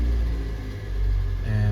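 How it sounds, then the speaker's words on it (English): A 2006 Toyota Corolla's engine runs with a loud, steady low rumble close by, swelling briefly as it catches and settles into idle. "So go ahead and start the car."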